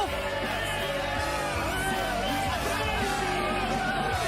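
A delirious crowd yells and cheers as fans storm a basketball court to celebrate the game-winning shot in One Tree Hill, a loud, continuous roar of shouting voices with whoops rising above it.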